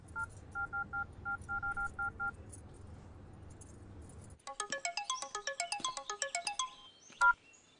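A phone ringtone during a call sounds alone: first a series of short, evenly spaced two-tone electronic beeps, then after a brief pause a fast, bright melodic ringtone.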